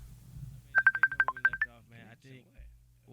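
A telephone dials as it connects: a quick run of about nine crisp, evenly spaced keypad tones, then softer trailing sounds over a low hum.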